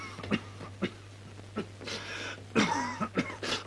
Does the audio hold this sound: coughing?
yes